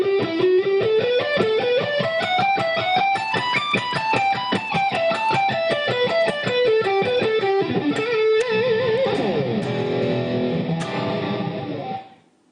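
Slow pentatonic guitar lick with distortion and effects, single notes picked steadily up and down the scale for about twelve seconds, ending in a sustained bend that fades out.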